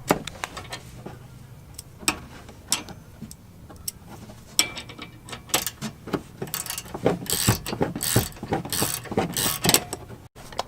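Ratchet working a bolt loose on the suspension of an Alfa Romeo Stelvio during a lowering-spring install, heard as scattered clicks that speed into dense, loud bursts of rapid clicking toward the end, no talk.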